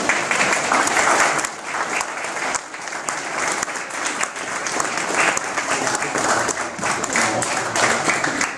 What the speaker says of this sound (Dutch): begin maar vast met klappen